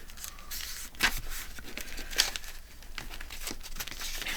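Sheets of vellum paper are folded and handled for ephemera bundles, giving soft crinkling and rustling with a few sharper crackles, close by and fairly quiet.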